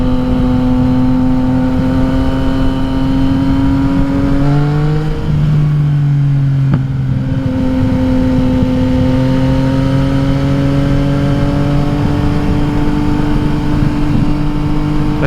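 A Yamaha XSR900 motorcycle with an Akrapovic exhaust drones loudly at speed, its engine note rising and falling as the revs change, with a sharp pop near the middle.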